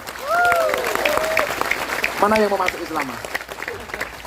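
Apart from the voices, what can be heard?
audience applause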